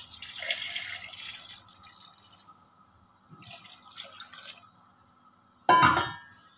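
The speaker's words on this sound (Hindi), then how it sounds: "अब इसमें मैंने पानी डालना है।" Water poured into a pot of browning beef undercut for nihari, heard as a short, loud splashing gush near the end after quieter kitchen sounds.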